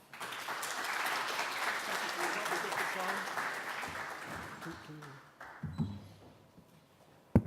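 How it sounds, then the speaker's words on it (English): Warm applause from a conference audience welcomes keynote speaker Dr. Harrison Spencer, a dense, even clapping that holds for several seconds before thinning out, with a few stray claps and faint talk near the end. "Please give a warm round of applause to welcome Dr. Spencer to our conference"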